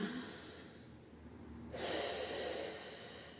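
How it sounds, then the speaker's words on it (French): Breath drawn in and out through the chest during a thoracic breathing exercise: a hushed, airy exhale, then a louder, broader inhalation rushing in halfway through, close and without talk. "prendre conscience de la respiration thoracique"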